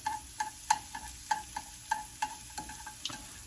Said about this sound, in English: I'm just using chopsticks to stir this up